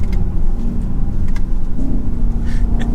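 A 2023 BMW XM SUV engine hums and rumbles steadily up close, with a slight rise in pitch as it accelerates.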